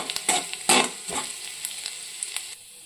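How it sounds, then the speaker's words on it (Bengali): Chopped garlic and ginger fry in a pan, bursts of crackling sizzle with spatula scrapes and knocks against the pan, loud up close, easing to a quieter hiss by the end. "সামান্য একটু রসুন আর আদাটা একটু ভাজা করে নেবো।"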